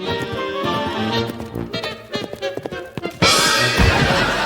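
A horse at a riding competition whinnies and snorts amid hoof sounds, followed by a loud burst of noise near the end.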